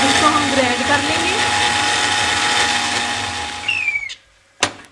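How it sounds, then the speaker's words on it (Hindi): A kitchen blender grinds tomatoes, coriander and mint into a spicy chutney, a loud continuous whirring roar that runs for about four seconds, then cuts off, followed by a brief clunk. "अब इसको हम ग्राइंड कर लेंगे।"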